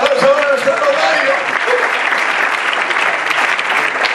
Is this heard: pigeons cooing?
no